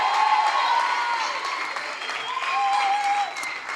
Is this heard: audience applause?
yes